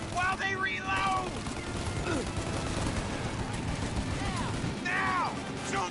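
Gunfire in the Mafia remake video game, a sustained clattering barrage of rapid shots mixed with mechanical clanks and crashes, loud and continuous, with voices shouting over the fight.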